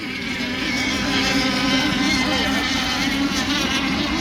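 A nitro RC racing boat powered by an M5 Performance Merlin engine drones steadily and loudly at close range, a continuous high buzzing engine note with no break.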